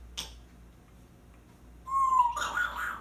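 A pet bird gives a sharp short call, falls quiet, then breaks into a louder run of whistled, warbling notes near the end, close and clear with no talk.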